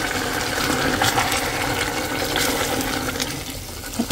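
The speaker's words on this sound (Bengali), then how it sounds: "হালকা পানি দিই" Water pouring into chicken curry cooking in a Korean clay pot, a steady gushing splash that runs loud and close for about four seconds before tapering off, with no talking.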